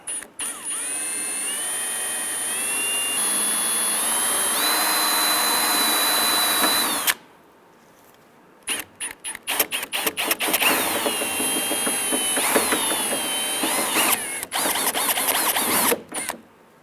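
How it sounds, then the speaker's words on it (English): Power drill boring out a rivet on a 1994-2004 Ford Mustang door, a loud whirring drill run of several seconds, a brief quiet pause, then choppy stop-start bursts and another sustained drilling stretch, close up. "we're going to drill out that rivet"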